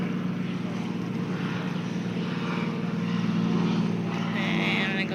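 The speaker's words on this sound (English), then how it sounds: "There goes another plane." A propeller airplane drones steadily overhead above Lake Union, recorded from a kayak on the water; the engine hum stays loud and continuous throughout with a faint rise toward the end.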